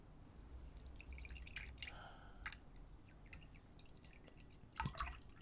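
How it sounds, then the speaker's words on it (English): A cold drink is poured on a private yacht: soft trickles and drips of liquid, quiet and close, with a brief splash near the end. "How about I pour you a nice cold drink?"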